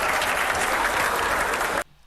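A comedy club audience bursts into loud, dense applause mixed with cheering, sustained and full for nearly two seconds before cutting off abruptly.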